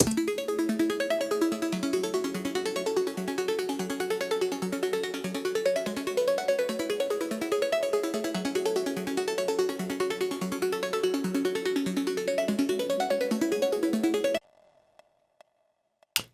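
Bright bell tones from the Serum software synthesizer ripple in a steady, repeating arpeggio for about fourteen seconds, with no post effects, then stop abruptly, leaving near silence with a few faint clicks.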